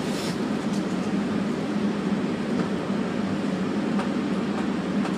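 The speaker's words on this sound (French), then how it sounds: "The train is arriving at Terminal 1." A Toronto Pearson Airport Terminal Link train rumbles steadily into a station, a continuous loud low roar with faint squeals and clatters, no voices.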